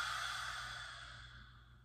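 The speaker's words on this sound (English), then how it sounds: "Take a big breath in. Long exhale through the mouth." Long, steady exhale through the mouth during a seated breathing exercise, a close, breathy rush of air that slowly fades over a couple of seconds with no talking.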